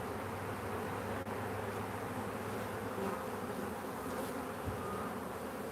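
Honeybees buzz steadily in a bee yard during a live hive inspection, a dense, continuous droning hum close by with a few brief knocks, and no talking.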